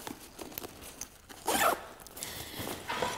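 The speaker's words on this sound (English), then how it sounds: "I just zip this back up." Zipper closing on the side compartment of The North Face Terra 45 rucksack, a few short scratchy pulls followed by a longer close rasp in a quiet room.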